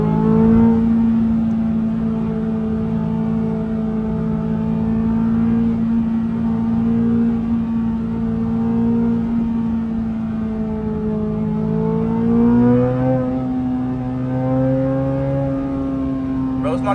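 A Corvette C8 Z06 engine hums steadily during a late-night drive, a sustained low drone that rises slightly in pitch as it picks up speed near the end.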